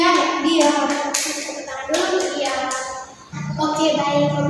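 Classroom applause for a student: a short run of hand clapping among students, with children's voices and a teacher talking over it, fading out near the end.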